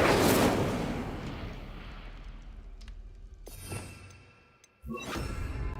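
A fiery Incendio spell cast in Hogwarts Legacy: a loud whooshing burst of flame at the start that fades over several seconds, followed by a couple of sharp crackling bursts later on.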